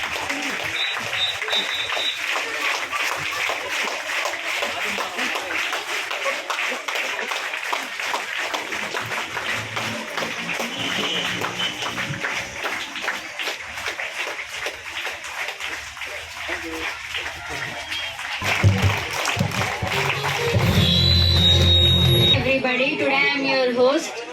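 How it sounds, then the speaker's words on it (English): Applause from students and guests at a school Science Day celebration, a long continuous patter of clapping, growing louder near the end as voices and other noise rise. "Everyone raise your hand and give claps."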